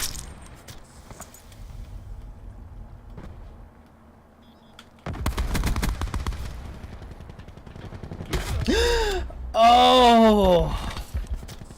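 Gunfire from a Call of Duty multiplayer match, sharp bursts and shots scattered through the clip, some loud and close, others distant, under game sounds and players talking.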